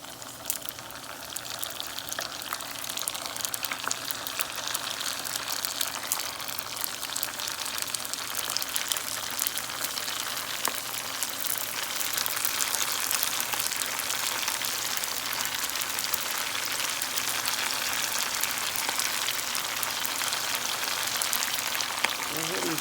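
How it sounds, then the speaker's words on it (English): Potstickers and spring rolls deep-fry in hot grease, a steady close hiss and dense crackle of bubbling oil that holds throughout, with speech occasionally over it. "Go ahead and fry it up and let those bad boys fry on up."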